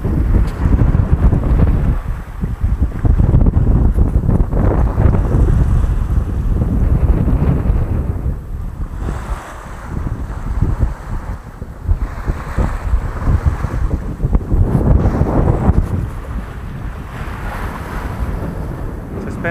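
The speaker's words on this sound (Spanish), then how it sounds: "Ahora mismo vamos navegando con unos 10 nudos del través, bastante despacito, pero bastante bien" A sailboat moves through a choppy sea at about ten knots of beam wind, with a continuous rush of water along the hull and heavy wind buffeting the microphone, loud and close.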